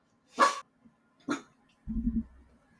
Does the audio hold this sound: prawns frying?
no